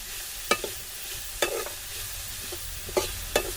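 Egg rice being stirred in a frying pan, a steady background sizzle broken by sharp scraping strokes of a spatula at irregular intervals, close by with no talking.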